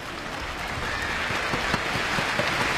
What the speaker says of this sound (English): the crowd show their appreciation